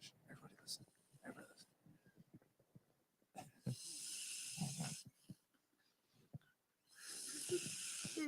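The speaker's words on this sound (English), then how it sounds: "just listen to your snore" Gary snores in two long, hissing breaths that are loud and airy. Quiet talk and small sounds fill the gaps between them.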